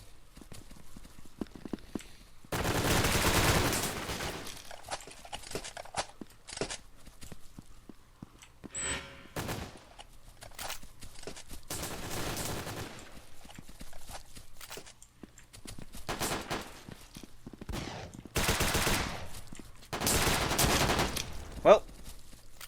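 Gunfire from the 2D shooter game BRAIN / OUT comes in several bursts of rapid automatic fire, separated by quieter stretches of footsteps and scattered single shots, all fairly near and with no talking.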